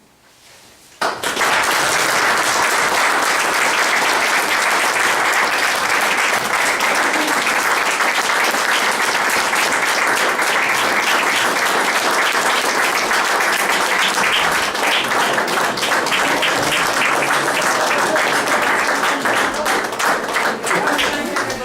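Sustained, loud applause from the audience at a town council meeting honoring a resident for her service, beginning abruptly after a brief quiet moment and continuing as dense, steady clapping for about twenty seconds.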